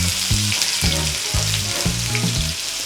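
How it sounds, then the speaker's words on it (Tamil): Onions and garlic sauté in a hot pan for egg curry, a steady close sizzle with bursts of stirring and clattering, no talk. "நல்லா வதங்கட்டும்."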